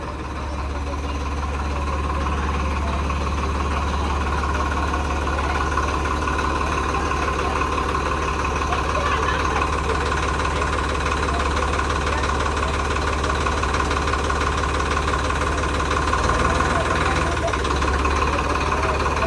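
A tractor engine idles steadily at close range, with a low, even rumble and a faint knocking pulse that holds constant and unbroken the whole time.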